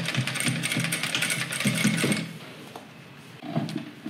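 A sewing machine stitches a zipped pouch in steady bursts, pausing briefly to reverse for backstitching at the start and end of the seam, close and fairly loud with no voices.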